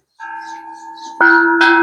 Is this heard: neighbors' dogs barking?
no